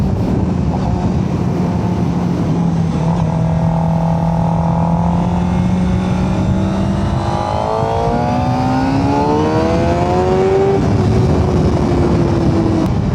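A motorcycle circles a wet race track on a track day, its engine droning steadily and loudly, then rising in pitch as it accelerates out of a corner, with constant wind and road roar; no talking.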